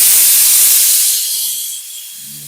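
A pressure cooker on a home stove letting out steam, a loud continuous hiss that tapers off over a couple of seconds.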